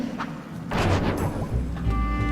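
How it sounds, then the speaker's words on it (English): Booming, thudding ice bomb blasts from the video game Final Fantasy Crystal Chronicles, a heavy burst followed by a second low rumbling blast, with game sound lingering in between. "It'd be funny if those explosions hurt the enemy too."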